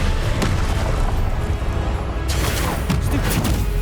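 Confringo blasting spell explosions in Hogwarts Legacy, booming blasts and bursts of combat noise, loud and close, with a sharp burst near the start and another flurry toward the end.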